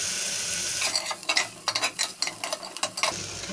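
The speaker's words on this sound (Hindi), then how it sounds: "तो इनको अच्छी तरह से मैं भून लूँगी।" Cumin, chopped onion and green chillies frying in a pan, with a steady sizzle and a run of scraping stirs against the pan, close and fairly loud with no talk.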